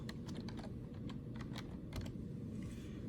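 Brisk keystrokes on a computer keyboard enter a folder name, a quick run of close, crisp clicks at a quiet level with no talking.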